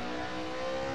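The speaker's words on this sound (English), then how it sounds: "I can't even downshift fast enough in this car." A car engine in the Assetto Corsa racing game holds a loud, steady high-rev drone on a touge mountain road run, one continuous burst with no talking.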